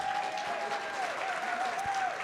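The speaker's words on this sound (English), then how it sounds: "Applause again." An audience at a business talk claps steadily and densely for a couple of seconds, a thin whistle-like tone running over the applause.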